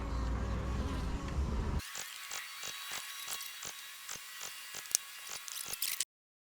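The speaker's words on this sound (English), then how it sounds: "Let's shake these bees off here." Honey bees are shaken off a Layens hive frame, and a dense, close buzzing swarm drones on. After a jolt the buzz thins into a steady whine broken by quick bumps and taps, then cuts off abruptly.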